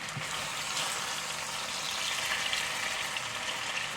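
Okra and yellow squash fry in a crowded pan, giving a steady, close hiss of sizzling oil with faint pops and crackles throughout.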